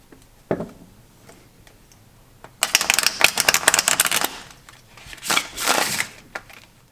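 A deck of cards is shuffled by hand. A single snap comes first, then two longer bursts of rapid, close riffling clicks with a short pause between them, and there is no talking.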